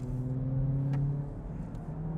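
A car accelerates down a race track straight during a track day. Its engine drone is loud and steady and holds close throughout.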